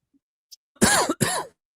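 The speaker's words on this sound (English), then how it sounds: "oh, I can't stop coughing" Two quick, harsh coughs close to the microphone, one right after the other, with a faint throaty sound just before.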